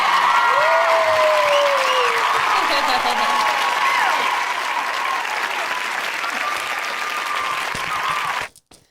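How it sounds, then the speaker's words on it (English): Steady crowd applause follows a song at a music event, filling the clip at an even level with a few whistles or cheers on top, then cutting off abruptly near the end. "Oh my, that deserves a clap."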